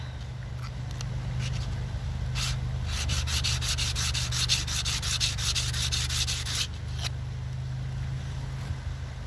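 Coarse sandpaper rubbing against a slate arrowhead in steady scraping strokes that build to a dense, rapid burst in the middle, over a constant low hum.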